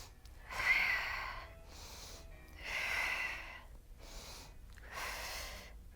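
Three slow, audible breath cycles during a yoga abs flow, each a soft airy inhale or exhale swelling and fading, evenly spaced with quiet gaps between and no talking.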